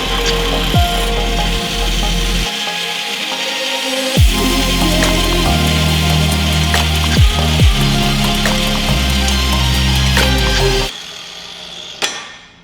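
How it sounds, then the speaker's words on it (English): An angle grinder cuts a notch into a steel steering fitting to fit a Miata steering rack in a drift truck, grinding loudly and continuously with rasping bursts before it stops abruptly near the end. "we're just gonna take an angle grinder and cut a little notch in here"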